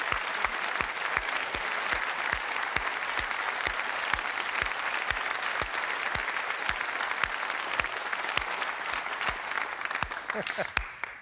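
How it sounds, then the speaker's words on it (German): A TV studio audience applauds on the TV total show, with steady, dense clapping throughout and a few louder individual claps near the end. "Sie können gleich weiter klatschen"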